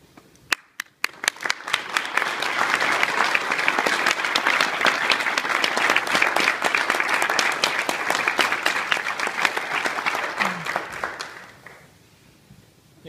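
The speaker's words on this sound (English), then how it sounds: "I would like to ask all of the veterans and active duty military to stand up and be recognized by a round of applause" Audience applause at a military commissioning ceremony honoring veterans and active duty service members, starting with a few scattered claps, then a full steady round of clapping that lasts about ten seconds before fading to a few last claps.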